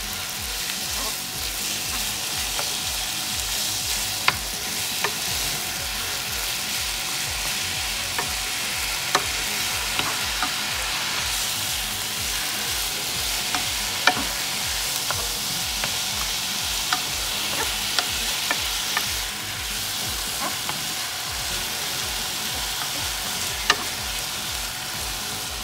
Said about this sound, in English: So we're going to cook the ground turkey and we're going to wait when it turns to brown, golden brown.